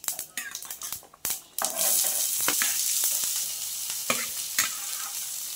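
Onions drop into hot oil already frying with cumin, mustard seeds and urad dal. A few sharp clatters of stirring give way to a loud, steady sizzle close to the pan.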